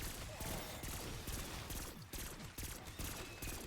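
Rapid bursts of gunfire in the video game Black Ops 6 Zombies, loud repeated shots in quick clusters with brief gaps, close and dominant over faint game background.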